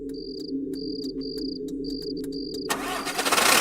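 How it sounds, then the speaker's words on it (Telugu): Crickets chirp in short repeated bursts over a low idle hum, then a vehicle engine cranks and catches near the end, rising into a louder, rough running rumble. "ఇక బండి స్టార్ట్ చేయండి"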